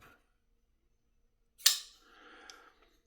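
An Ameight Elgar folding knife flicks open by drop-shot, giving one sharp, close metallic snap of the blade locking, followed by a brief fading rattle in an otherwise quiet room.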